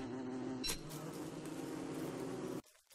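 Buzzing bees in the video game Don't Starve, a steady droning hum that holds for about two and a half seconds before cutting off abruptly.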